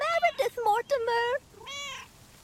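Cat meows in the video game Lake, a run of close, clear cries followed by a softer, higher mew.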